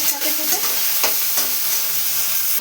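Onion and ginger frying together with potatoes in a pan, a steady close sizzle with light stirring scrapes running throughout, no voices.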